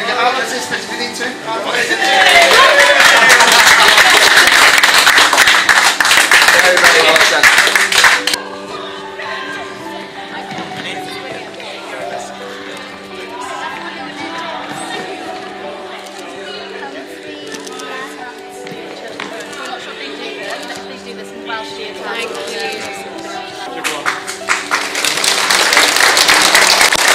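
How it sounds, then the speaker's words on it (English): Crowd at a leisure center cheers and applauds loudly during an endurance spin bike challenge, a sustained burst of clapping and shouts that drops to quieter chatter and room noise, then swells again near the end. "Let's cheer them on."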